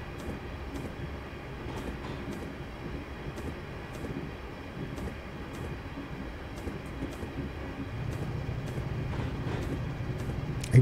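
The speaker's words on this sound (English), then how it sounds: "Even the sound of the compressor kicking in there." An air compressor kicks in aboard an APT train in Train Sim 2019 on the Trent Valley line, a low steady drone that thickens toward the end, with faint periodic clicks over the running noise and no speech.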